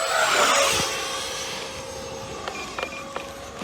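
An FMS Yak 130 70mm EDF RC jet screams past at full throttle, a loud, steady high whine that slowly fades as it moves away, with a few faint clicks near the end.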